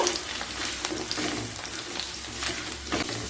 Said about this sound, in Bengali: আলুগুলোকে সিক্সটি পারসেন্ট ভেজে নেব